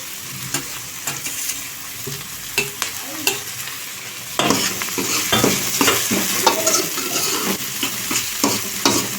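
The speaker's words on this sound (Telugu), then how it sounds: "టమాటా ముక్కలు కూడా గుజ్జు గుజ్జుగా అయ్యేదాకా వేయించుకోవాలి" Tomato pieces and curry leaves fry in a pan for a Telugu-style chicken curry, with a steady sizzle under repeated sharp scrapes and clacks of stirring; the frying grows louder and denser about halfway through.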